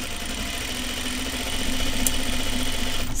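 A sewing machine runs steadily while stitching lightweight fabric for a tunic, a continuous close mechanical hum with fine rapid vibration that grows slightly louder partway through, with no talking.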